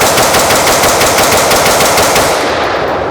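Rapid AR-15 rifle fire at a shooting range skill-building course, a dense, loud continuous string of shots with no pause, dropping off sharply at the end.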